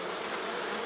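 A steady, close buzzing of many honeybees hovers around a hive left open for fall inspection, continuous and even throughout the short moment, with no one speaking.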